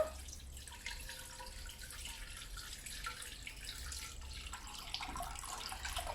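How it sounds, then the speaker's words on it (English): Steady broadband rush of cold tap water running into a skillet, continuous and fairly even throughout, with no talking. "you cover it with cold water"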